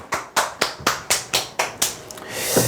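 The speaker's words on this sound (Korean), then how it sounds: "박수." Clapping at a sales seminar: a small group claps in about eight sharp, evenly spaced claps, close and distinct, then trails off into a soft murmur.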